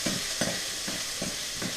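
Onions fry in oil in a pan while being stirred for fried quinoa, a steady close sizzle broken by regular scraping strokes roughly every few tenths of a second, with no talking.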